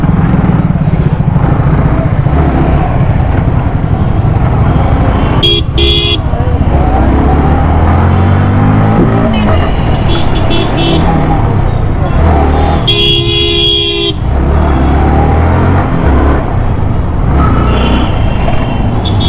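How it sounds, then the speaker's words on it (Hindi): Dense city street traffic during a motorcycle ride, with a constant engine and road roar, passing motorbikes, and a few short car horn toots sounding close by. "हर तरफ ट्रैफिक है भाई।"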